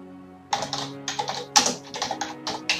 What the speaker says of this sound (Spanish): tenéis que teclear select volume